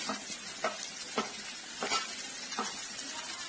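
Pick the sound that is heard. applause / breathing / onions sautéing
onions sautéing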